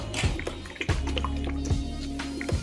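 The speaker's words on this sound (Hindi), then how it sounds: "और सीमेंट डालो भैया।" Wet cement slops and squelches out in a pour for a miniature concrete bridge in a toy tractor build, with several soft wet drips and plops over a low steady rumble, close and fairly loud, no talking.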